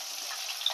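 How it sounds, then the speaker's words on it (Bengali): Tomato and onion frying in hot oil while being stirred, a steady close hiss of sizzling with faint scraping, no voices. "এবার টমেটো পেঁয়াজটা এমনি ভেজে গো"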